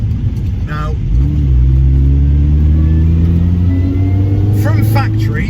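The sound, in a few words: modified R53 hot hatch engine driving fast on a B-road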